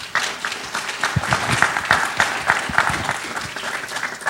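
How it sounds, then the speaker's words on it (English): An audience at a data mining camp session applauds panelists, dense clapping from a crowd of hands, fairly loud and continuous with scattered sharper claps. "how about a round of applause for our panelists?"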